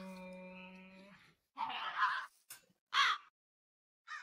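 A crow from the Alex's Mobs mod for Minecraft gives a few harsh, separate caws after a steady droning game tone, fairly close and with no talking.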